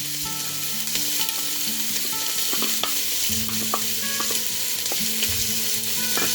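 Onions and garlic hit hot oil on medium-high heat for a spaghetti and meatballs sauce, a loud continuous sizzle with spoon clinks and scraping as it is stirred, no voices.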